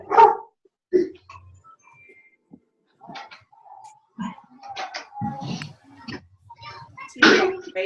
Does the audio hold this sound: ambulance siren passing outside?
no